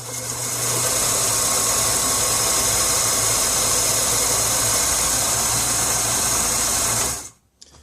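Belt-driven knife sharpening machine with a 1.5 inch and a 3 inch pulley runs at reduced speed, a loud steady motor whir and rattling hum that holds for about seven seconds, then winds down and stops.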